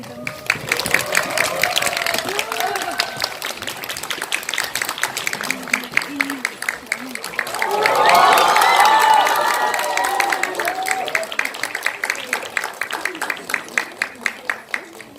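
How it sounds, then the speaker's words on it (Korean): A cinema audience claps and cheers to welcome the director and actors of the film Ashfall (Baekdusan) for a stage greeting, sustained applause with a swell of shouting and cheers midway, mixed with crowd voices. "뜨거운 박수로 맞이해 주시면 진심으로 감사하겠습니다."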